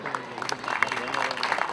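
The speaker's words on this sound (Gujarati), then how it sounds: "આપણે ખૂબ તાળીઓથી વધાવીએ" An audience applauds at a village award ceremony in Mota Devadiya as author Yogesh Surani's book is launched. The clapping is steady and moderately close, with a voice talking over it throughout.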